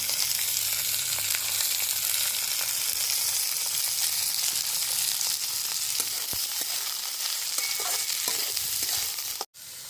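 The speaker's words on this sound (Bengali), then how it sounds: "এবার ডিম কড়াইশুটি গাজর বিট সবই আমি এর মধ্যে দিয়ে হালকা একটু ভেজে নেব" Egg, green peas, carrot and beetroot fry in a pan with onion and coconut, giving a steady close sizzle with faint stirring clicks throughout, ending in a brief drop to near silence.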